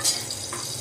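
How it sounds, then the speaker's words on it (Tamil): Poha (aval) frying in ghee in a pan makes a soft, close sizzle with a quick stirring scrape, brief and moderately quiet, with no talking. "அவளை போட்டு வறுத்துக்கிறேன்."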